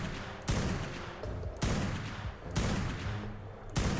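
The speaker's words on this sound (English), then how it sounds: "I'll just shoot it with the freaking gun." Gunfire from a gun in the video game Ark Primal Fear. Four loud, sharp shots are spaced about a second apart, and each one rings out with a booming tail.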